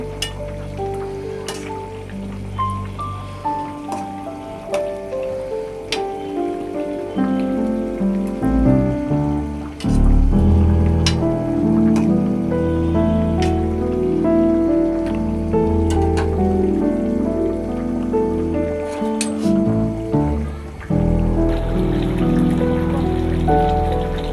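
Fish curry boils in a pot, giving a steady, close bubbling and spattering that runs throughout, with tonal background music layered over it.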